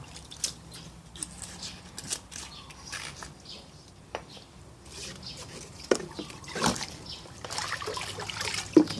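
Fermented rice liquid fertilizer is stirred and mixed in a container, making soft, close trickles, sloshes and wet squishes that come in uneven pulses against a quiet background.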